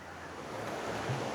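Rushing water from a waterfall in a canyon gives a steady, moderately loud broadband wash, heard alone over a short moment.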